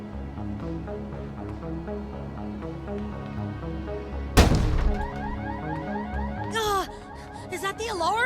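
A car alarm goes off in the video game Dustborn, starting as a sudden loud burst and then continuing as a wavering, repeating electronic wail over a layered game music bed.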